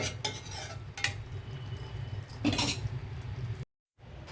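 A utensil stirs chicken fenugreek curry in a metal pot, with scraping and clinking strokes over a soft simmering sizzle, close by, ending in a brief silence before the sound resumes.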